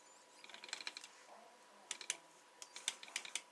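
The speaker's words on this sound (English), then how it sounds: "I love the sound of the gears clicking." Rapid bursts of light, dry clicking from the gears of an RJ Speed pro mod RC drag car, coming in two clustered runs with a short pause between, close and fairly faint.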